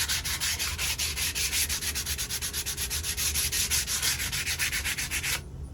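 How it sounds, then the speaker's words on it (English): Steady, rhythmic strokes sand and scrape a surface along the grain, loud and close, continuing evenly before stopping abruptly. "Just sand down, scrape it down real good."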